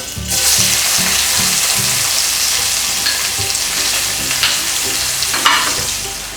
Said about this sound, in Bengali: চিনিটা গলেই গিয়েছে, এখন এর মধ্যে দিয়ে দেব পেঁয়াজ কুচি।